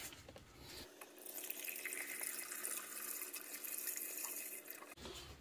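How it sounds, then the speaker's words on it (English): Dex-Cool 50/50 coolant pours through a funnel into the reservoir of a Chevy Cruze 1.4, a faint continuous gurgling liquid stream lasting several seconds, alone without talk. "Alright guys, we'll do coolant on this. We'll fill her up."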